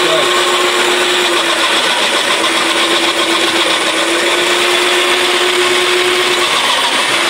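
A food processor whirs loudly and steadily while chopping potatoes and carrots, a continuous close motor drone with a faint humming tone throughout.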